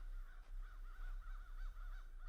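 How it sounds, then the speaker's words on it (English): Crows caw repeatedly in Tennessee woods near Cades Cove, a steady series of rhythmic calls at moderate distance over a low outdoor rumble, with no talking. "Can hear them crows."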